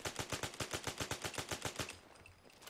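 Fully automatic fire from the AK 2047 mod rifle in Fallout 4, a steady rhythmic string of about fifteen evenly spaced shots, fairly close, that stops abruptly and leaves faint ambient noise.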